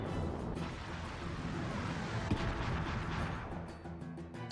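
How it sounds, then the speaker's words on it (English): The Fire Pillar spell effect in Chrono Cross erupts as a sustained, rumbling blast of roaring flame with crackling, booming bursts that swell and then fade. It carries steadily and fairly loud for several seconds with no talk over it. "Let's rock a fire pillar on her."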